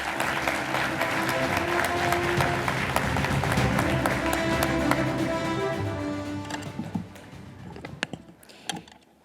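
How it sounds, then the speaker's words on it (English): A large crowd at the closing ceremony of the International Astronautical Congress applauds steadily for several seconds, then the clapping thins out into a few scattered claps before fading. "Please give her a warm applause."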